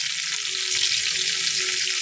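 Sea fish sizzles in a hot pan, a steady, soft hiss of frying oil heard close up for a couple of seconds, with no voices.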